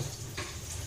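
Eggplant slices fry in a pan with a faint, steady crackling sizzle. A short brighter burst comes partway through, and no one speaks.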